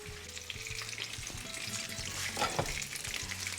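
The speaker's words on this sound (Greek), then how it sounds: "αφού έχουν τηγανιστεί από τη μία μεριά" Tomato fritters sizzle and spit steadily in a frying pan, a close, continuous crackle with a few soft clinks of a utensil against the pan.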